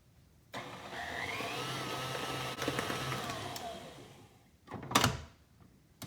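Electric hand mixer on high speed whipping cream cheese frosting in a bowl, a steady whirring drone lasting several seconds, then a brief louder clatter near the end.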